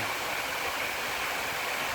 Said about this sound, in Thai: ฟังเสียงน้ำตวนน้ำตก